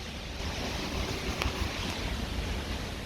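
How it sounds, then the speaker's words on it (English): A fast-flowing river swollen by Storm Amy in constant rain, a dense broadband rush of water with wind buffeting the microphone, steady and close with no voices. "let's have a look at this very fast flowing river"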